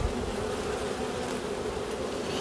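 Honeybees on a hive frame during a transfer from a nucleus box to a full hive give a steady, close, even buzzing hum with no talk over it.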